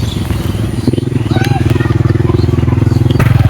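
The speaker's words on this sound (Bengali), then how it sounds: "গ্রামের রাস্তায় বাইক যাইতেছে," A motorcycle rides along a dirt village road, its engine throbbing in a loud, close, rapid pulse that grows steadier as it passes.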